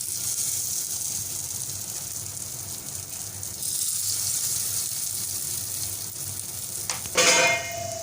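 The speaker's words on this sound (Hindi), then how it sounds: "तो अब इसके अंदर हम करेंगे कबाब फ्राई।" Chicken shami kababs fry in a little oil in a non-stick pan with a steady, fairly quiet sizzle. A brief clatter and some louder handling noise come near the end.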